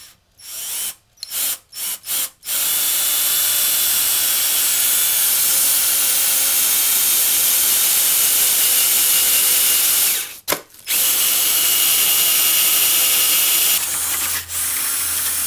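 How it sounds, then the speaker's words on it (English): A power drill whines steadily for several seconds while drilling a hole for a trailer hitch, with a few short bursts at the start and a brief pause before it resumes, loud and close. "Got the hole drilled."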